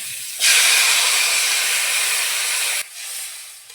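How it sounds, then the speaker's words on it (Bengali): Water poured into a pan of frying potatoes bursts into a loud, close hiss of steam that starts abruptly, holds strongly for a couple of seconds, then cuts down to a softer lingering sizzle. "এবার আমি জল দিয়ে দেব"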